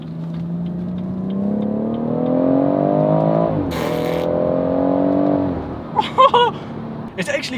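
BMW M140i accelerating hard through a roundabout, its engine note climbing steadily through the revs, then a sharp upshift into another rising pull, followed by a few loud exhaust pops and crackles near the end.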